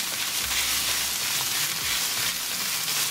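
Chopped onions sizzle in hot oil in a pan for a zucchini tadka, giving a steady, close, even frying hiss with a few soft low bumps and no talking.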